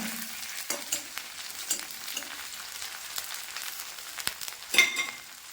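Small shallots frying in a pan for a leafy stir-fry: a soft, fairly quiet sizzle with scattered light taps and scrapes from stirring, a little louder near the end, with no voices.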